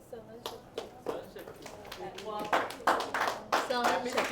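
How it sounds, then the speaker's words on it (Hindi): A training-session audience claps in uneven bursts that build and grow louder toward the end, with voices talking over the scattered hand claps. "ताली बजाओ"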